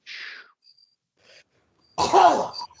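A single sharp sneeze bursts out after a few quiet breaths and small noises, close and fairly loud.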